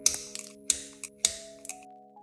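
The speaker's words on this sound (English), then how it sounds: "I am going to go ahead and cut down about half of the nail length" Nail tip cutter snipping down press-on gel nail tips, three or four sharp close clicks spaced about half a second apart, crisp and fairly quiet, with a faint steady hum underneath.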